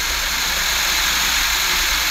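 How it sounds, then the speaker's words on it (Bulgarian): A car engine runs steadily at idle, a dense continuous hum with a low throb played back through a device, unchanging and alone without any voices. "можете да натиснете и на видеото, за да ви отвори видео на мотора как работи"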